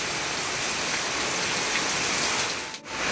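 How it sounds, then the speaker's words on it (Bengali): Heavy rain falls outside, a dense, loud and unbroken patter that stays steady throughout. "তবে এইদিকে বাইরে কিন্তু ভালোই বৃষ্টি হচ্ছে আজকে"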